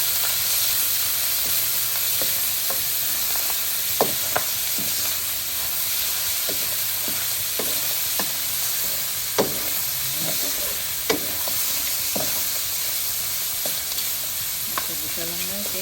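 Onion and tomato sauté in a pan, a steady bright sizzle filling the whole stretch, punctuated by scattered clicks and taps of a utensil stirring, with no one talking.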